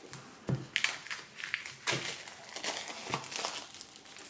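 Cardboard box and plastic wrapping of the Avalon Mists oracle card deck crinkling and crackling as it is opened, a close run of rustles and crisp snaps spread over several seconds.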